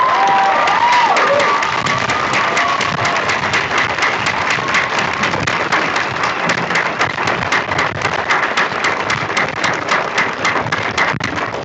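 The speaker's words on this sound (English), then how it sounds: "If everybody would please stand and give a round of applause." A standing crowd gives a long round of applause at the close of a school graduation ceremony, brisk even clapping with a brief cheer near the start, continuing steadily for over ten seconds.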